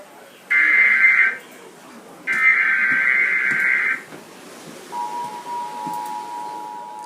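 An Emergency Alert System broadcast sends two harsh, buzzy data bursts separated by a short gap, followed by a fainter steady electronic tone.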